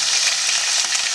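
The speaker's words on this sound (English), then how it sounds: "So now we're going to go ahead and get the meat in there." Meat hitting a hot pan for bistec guisado, a constant loud close sizzle with a dense hiss throughout and no voices.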